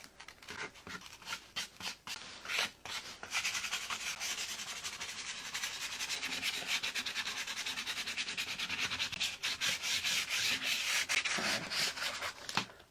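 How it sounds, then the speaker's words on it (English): Sandpaper rubs over wood in a milk-paint finishing job: a few separate scratchy strokes at first, then a steady, close, continuous rasping hiss. No one speaks. "let me get this with a little bit of sandpaper that doesn't have black paint on it"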